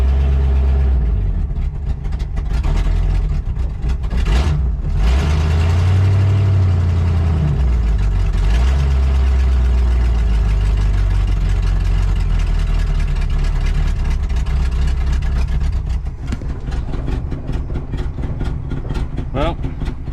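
A 1967 Pontiac Tempest station wagon engine idling nearby, a steady loud low rumble with uneven, wavering pitch as the idle surges and sags, continuous throughout.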